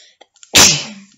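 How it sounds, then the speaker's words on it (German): A man sneezes once, a sudden loud close burst that fades quickly, preceded by a few faint clicks. "Muss niesen."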